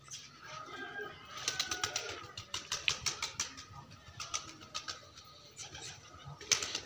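Pigeons in a backyard loft at evening shutting-in time make a rapid, quiet flurry of wing flaps and fluttering taps, faint and close, with occasional soft clatter.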